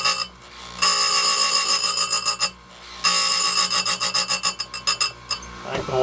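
Electric chainsaw sharpener grinding chainsaw chain teeth, close and loud, in repeated raspy grinding passes separated by short pauses, ending in a series of quick pulsing strokes.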